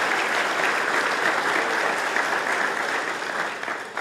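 Conference audience applauding sponsors at the Mackinac Policy Conference, a continuous roomful of clapping that stays strong and then eases slightly at the close.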